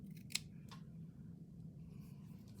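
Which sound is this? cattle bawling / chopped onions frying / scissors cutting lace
scissors cutting lace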